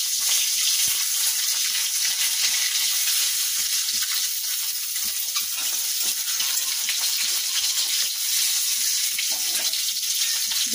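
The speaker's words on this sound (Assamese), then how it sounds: "গৰম হ'ল, এতিয়া কণীকেইটা মই অলপ ভাজি লওঁ।" Eggs seasoned with turmeric and salt frying in hot oil in a pan, a dense, even crackling sizzle that runs steadily from start to finish, close and fairly loud with no voices.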